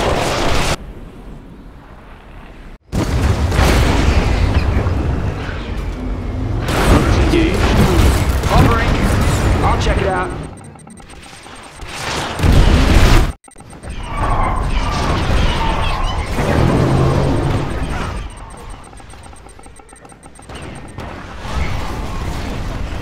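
An ion cannon strike in C&C Kane's Wrath on the Cold Mountains map, heavy booming blasts and crashing rumbles with sudden cut-offs, amid other battle noise and voiced unit callouts.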